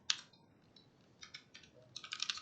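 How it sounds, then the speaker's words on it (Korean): A computer keyboard is typed on in a quiet room, with soft irregular clusters of key clicks, a few sharper taps standing out, and no talking. "그럴 땐 그냥 일일이 타이핑 해야죠."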